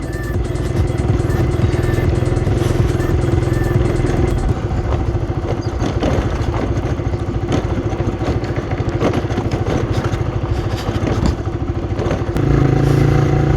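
Motorcycle engine running steadily throughout on a solo ride, a loud, continuous drone with clattering and scraping, the pitch dropping slightly near the end.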